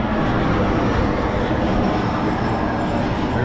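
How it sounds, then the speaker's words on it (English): An airplane flies overhead, heard as a steady, loud broadband roar that holds evenly throughout with no talking. "There's an airplane."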